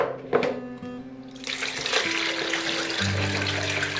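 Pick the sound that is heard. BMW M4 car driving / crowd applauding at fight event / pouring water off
pouring water off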